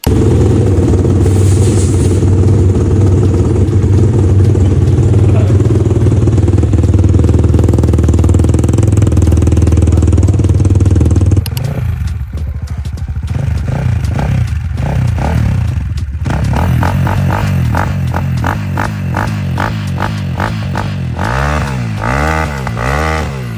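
A Chinese motorcycle idles loudly with a deep, throbbing exhaust, then after a break, with the exhaust newly repacked, a second run rumbles with sharper pulsing pops and revs.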